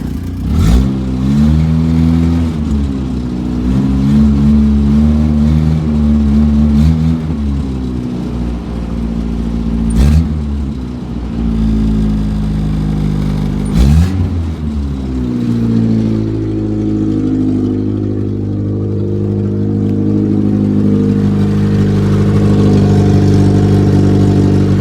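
A Toyota Wolverine truck engine runs close up and is revved with throttle several times, each surge rising and falling over a steady loud idle with no talking.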